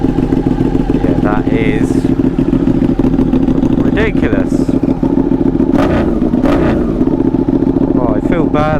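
Ducati 959 Panigale sport motorcycle engine idling loudly with a steady, close rumble and a few short rev blips, while someone talks over it.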